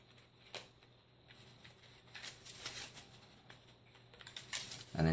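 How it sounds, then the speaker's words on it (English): A deck of Pokemon cards is shuffled by hand at a play table. Quiet, crisp riffles and patters come in scattered bursts close to the mic, with no talk over them. "And then he shuffles the deck."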